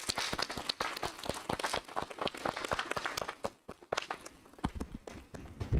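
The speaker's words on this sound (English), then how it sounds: "So I want to give all of them a round of applause," An audience at a school district board meeting applauds, a dense patter of many hands clapping together for several seconds before thinning out, with a brief lull and a few final claps near the end.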